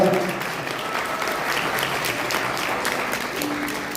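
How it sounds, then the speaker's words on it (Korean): Wedding guests applaud just after the marriage is declared, a steady, full burst of clapping filling the hall for a few seconds with faint voices underneath. "큰 박수 부탁드립니다"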